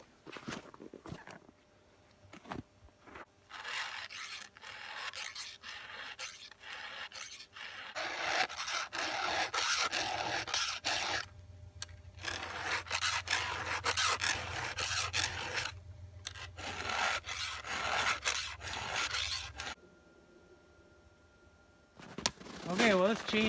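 A dull chain on a Poulan 2150 36cc chainsaw with a 20-inch bar is hand-filed, giving repeated rhythmic rasping strokes in close, quiet bursts separated by short pauses, with some handling noise.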